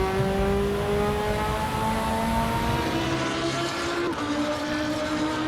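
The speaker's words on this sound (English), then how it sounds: "I adore the angry, crackling and authoritative rumbling of 8 cylinders." A V8 race car engine in a racing video game rumbles and revs loudly and continuously, its harmonic drone rising slightly before a brief dip and recovery near the end.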